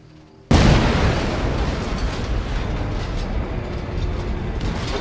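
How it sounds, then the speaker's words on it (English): A sudden loud blast in the VR war game Medal of Honor: Above and Beyond, played on Quest 2, erupts after a quiet moment and trails off into a long, heavy rumble. "That explosion got the attention of all the German patrols in the area."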